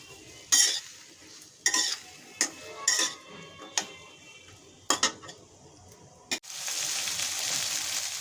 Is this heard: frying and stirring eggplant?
yes